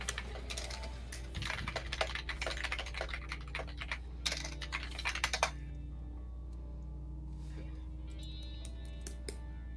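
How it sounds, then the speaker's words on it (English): Close, fast keyboard typing clatters in bursts of rapid clicks for several seconds, then thins to a few scattered taps over a low steady hum. "It's just typing noises for 5"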